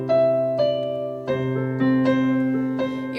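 Solo piano picks out a melodic riff over sustained low notes, a clear sequence of struck phrases at steady moderate loudness with no talking.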